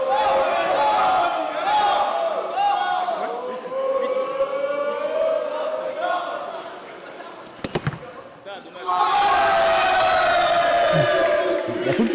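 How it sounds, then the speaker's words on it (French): An excited crowd at a final of the Open de la Terre du Milieu in Clermont-Ferrand shouts and cheers loudly and continuously, with a brief lull before the noise swells again. "La foule qui s'excite visiblement."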